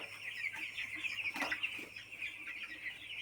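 Many chickens on a poultry farm of about fourteen thousand birds clucking and calling together in a steady, busy chorus, with a continuous high-pitched din filling the background.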